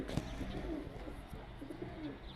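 Hungry baby pigeons make soft, faint cooing and peeping calls close by over a low background hum, with a few brief handling knocks.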